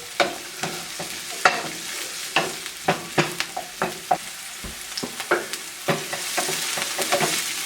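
Onions cooking down in a pan with salt and pepper, steady sizzling under a run of close, sharp spoon stirs and scrapes that grow busier toward the end, without speech.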